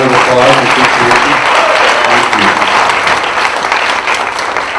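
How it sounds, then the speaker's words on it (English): Applause from an audience at a 2015 Orem candidate debate, a steady, dense clapping that fills the whole stretch and eases slightly toward the end. "Would you join me in giving her a round of applause and appreciation?"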